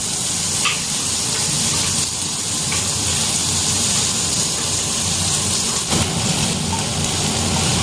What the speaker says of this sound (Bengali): এবার পেঁয়াজ লঙ্কা আর বেগুন দিয়ে একটু নাড়াচাড়া করব